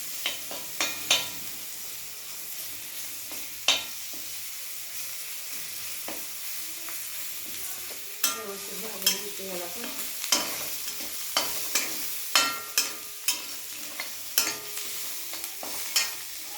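Onion frying with ginger-garlic paste in a pan for a chicken or mutton curry, giving a steady soft sizzle with repeated sharp scraping clicks of a spoon stirring, close and alone with no talking.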